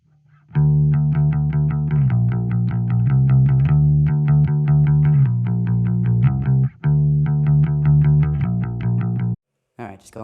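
A bass guitar recorded direct in GarageBand with distortion and effects plays a steady riff of sustained, gritty notes that change pitch every second or so, loud and continuous, stopping briefly near the end.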